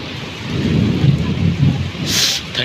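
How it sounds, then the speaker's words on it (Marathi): Steady heavy unseasonal rain hisses across the whole clip in Konkan while low thunder rumbles beneath it, swelling and fading; no one speaks. "पाऊस जोरात येतो"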